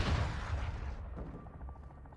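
Rocket explosion bringing down a helicopter in Call of Duty: Modern Warfare 2 (2022), a loud low boom that rumbles and then fades into a quieter tail.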